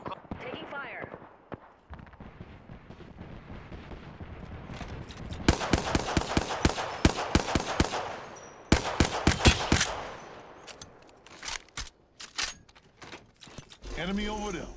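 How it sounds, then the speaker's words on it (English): Rapid automatic gunfire in the shooter Apex Legends, long sharp bursts of closely spaced shots with brief pauses, loud and near, with a voice speaking over the start and end. "Taking fire."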